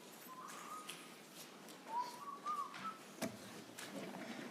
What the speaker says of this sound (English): Is he whistling?